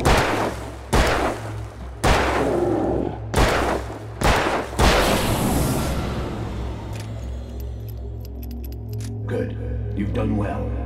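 Five loud, evenly spaced gunshots ring out in Alan Wake, each followed by a booming tail, and then a quieter stretch of rumbling ambience with faint metallic clicks.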